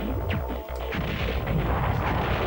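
Bomb blasts from the PlayStation game Silent Bomber come as a dense run of booming bursts and rumbling impacts, close and continuous, with no voices.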